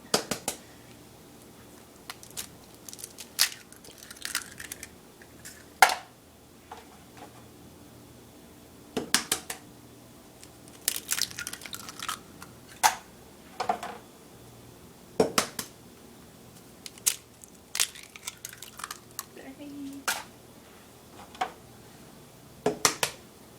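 Eggs added to cheesecake batter in a mixing bowl: scattered sharp taps and clinks of shell against the bowl, spaced by quiet pauses in a calm kitchen.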